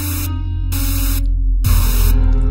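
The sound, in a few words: loud white noise from the Mysterious Hole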